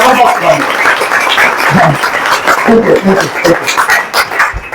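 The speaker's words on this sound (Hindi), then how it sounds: "तो एक बार अपने लिए शानदार वाली ताली बजा दीजिए" Audience at a business meeting clapping together, a dense steady patter of hands with voices and cheers mixed in throughout.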